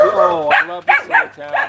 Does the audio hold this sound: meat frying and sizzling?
no